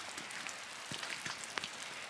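Slushy sleet comes down like rain at Silver Falls State Park, a soft steady patter of drops hitting surfaces, faint and continuous.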